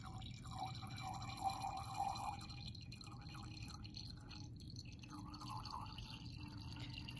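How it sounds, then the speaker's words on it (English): Distilled water slowly added to a glass volumetric flask in a lab, giving a faint, steady trickle and soft drips against a quiet background hiss, with no talking. "slowly add distilled water until your meniscus is directly on that line"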